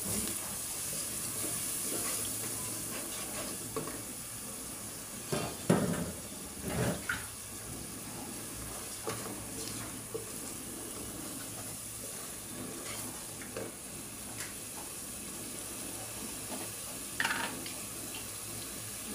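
Water poured into a pan of chicken curry frying in oil with spices and green chillies, a soft continuous sizzle and hiss with a few brief clinks and splashes, faint and without talk.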